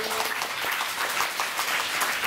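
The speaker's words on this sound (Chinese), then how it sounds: "来我们再用热烈的掌声，谢谢从台南来的陈老师" Warm applause from a classroom audience thanking a visiting teacher from Tainan, a dense, steady burst of many hands clapping close by.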